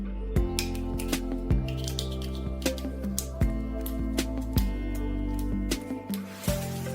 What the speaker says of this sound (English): use scissors to cut it into small pieces